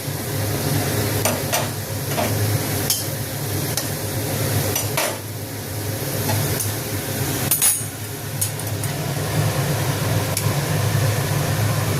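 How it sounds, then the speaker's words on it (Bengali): Lentils tipped into onions frying in a pan for a pumpkin-greens dal give a steady, fairly loud sizzle, broken by occasional scraping clicks and knocks from the pan, with no voices. "এবার এর মধ্যে ডালটা ঢেলে দেবো"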